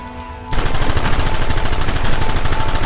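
Sudden burst of dense, rapid gunfire in Red Dead Redemption, loud and continuous with many overlapping shots after a brief quiet start.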